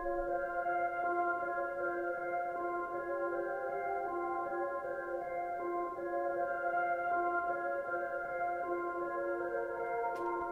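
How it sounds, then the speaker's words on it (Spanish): A soft, sustained synthesizer pad holds a steady chord throughout, smooth and even with no attacks, at a gentle, constant level. "El pad suena así."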